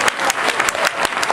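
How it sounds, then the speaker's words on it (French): An audience at a stage show breaks into brisk, close applause, a dense patter of many hands clapping through the short moment. "On peut applaudir."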